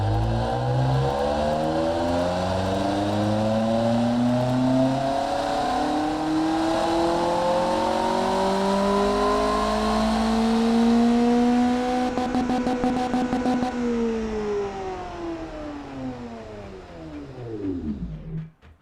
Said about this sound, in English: I'm not displeased with the way that that engine sounds at the moment.